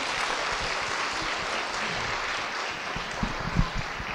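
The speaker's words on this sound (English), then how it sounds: "give just another round of applause to all these talented young people" Applause fills a hall at a Martin Luther King Jr. celebration honouring young performers, with a steady, even roar of many hands and a few louder thumps near the end.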